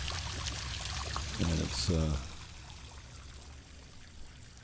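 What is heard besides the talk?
water trickling from a small waterfall in a condo complex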